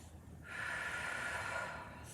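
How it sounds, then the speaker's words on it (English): Deep lateral breathing during a Pilates mat exercise, a single long, close, airy breath lasting about a second and a half, with no talk over it. "We're trying to open the ribs wide without lifting the shoulders. Inhale wide. Exhale, draw the ribs to center."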